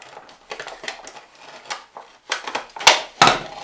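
Scissors snipping across a plastic seed-starting cup, a series of crisp, close cuts and crackles in irregular rhythm, growing louder toward the end.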